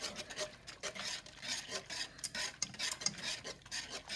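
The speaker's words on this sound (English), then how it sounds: "You want to constantly stir this until you're pretty sure that the everything's liquefied" Creamy carbonara sauce with parmesan stirred constantly in a pan, a soft, repeated scraping and rubbing at close range, rhythmic and fairly quiet.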